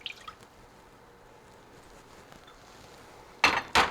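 Crisco oil is poured from a cup into orange cake batter, mostly quiet and wet, ending in two short loud splashy pours close by.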